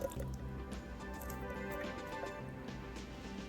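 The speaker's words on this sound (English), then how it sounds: "pouring them into the pot of stew" Canned vegetables and their juices pour into a pot of stew, giving a continuous wet glugging and dripping close by, with splashes throughout.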